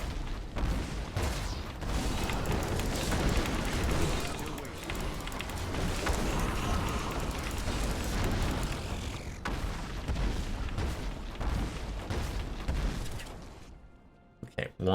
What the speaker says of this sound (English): That explosion going into Archon mode is pretty impressive